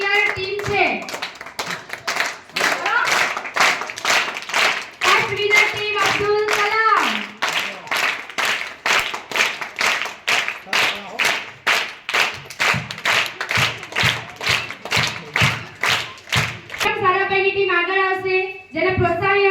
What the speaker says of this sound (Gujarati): તાલી પાડો ભાઈ, સરસ મહેનત કરીને છોકરાઓ ભાઈ.